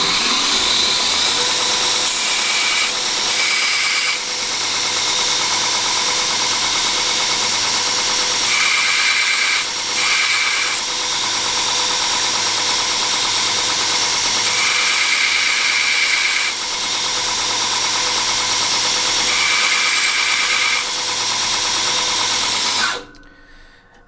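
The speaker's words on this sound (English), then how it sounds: "So I'll turn the grinder on." A loud, steady grinding whine from a bench grinder sharpening a damaged steel drill bit runs continuously for about twenty seconds, with slight pitch shifts as the bit is pressed against the wheel, then cuts off.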